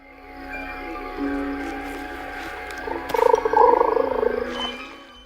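Frogs croaking in the stop-motion film Coraline, a dense chorus of low throaty croaks that swells louder toward the middle with faint tonal music underneath.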